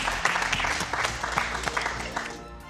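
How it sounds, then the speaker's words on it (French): Applause rings out across a banquet hall at a cooking competition final, a steady patter of many hands over a low hum, fading out toward the end. "Moi, je veux juste vous applaudir déjà."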